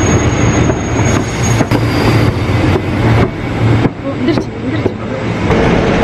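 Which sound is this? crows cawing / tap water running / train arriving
train arriving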